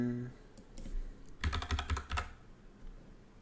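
Keys clatter in a quick burst of typing on a computer keyboard, a run of crisp, close taps lasting under a second with a few isolated clicks before it; no one talks.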